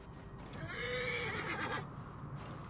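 Horse in the video game Assassin's Creed Origins whinnies and neighs loudly and close, with hoof clip-clop underneath, then settles into quieter ambience.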